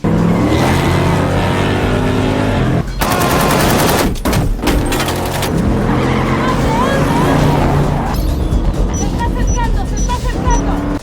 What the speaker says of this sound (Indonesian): muncul sebuah mobil truk yang dikendarai oleh orang yang sama yang sudah membunuh istri Carlos, di mana mereka terlibat kejar-kejaran yang cukup menegangkan